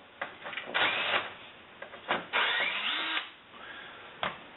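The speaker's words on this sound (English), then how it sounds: "I'm just going to zip them out with this drill" A power drill whirs in a few short bursts, backing screws out of an MKA 1919 shotgun butt plate, revving up and winding down between pauses, close and fairly loud.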